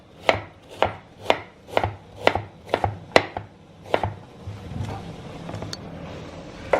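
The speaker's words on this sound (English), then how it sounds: "you're going to chop it as small as you can" A knife chops cauliflower into small pieces on a cutting board, about nine evenly spaced, firm thuds close to the microphone, then softer scraping and lighter taps, with no talking.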